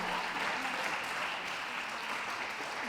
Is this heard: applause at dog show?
yes